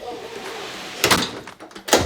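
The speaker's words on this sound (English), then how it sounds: "It hears this door right here." A house door opens or closes, with two sharp, close knocks about a second apart over a quiet room background.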